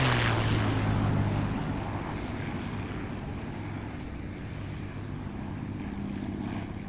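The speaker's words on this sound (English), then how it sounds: "Those engines going over the top of me like that." Aircraft engines roar overhead, loud at first and then easing into a steady, droning rumble with a low tonal hum that lingers throughout.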